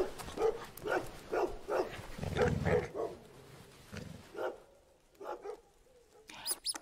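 A dog in a video game gives a series of short, rhythmic barks and yelps, fairly close, then trails off into quieter, sparse sounds near the end.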